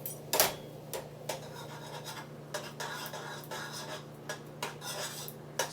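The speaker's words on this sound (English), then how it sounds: "So I just want to cut them in bite-sized pieces." Knife blade tapping and scraping against a board or plate while sausages or Vienna sausages are sliced into bite-sized pieces, a string of short close clicks and scratches at an irregular rhythm over a low steady hum.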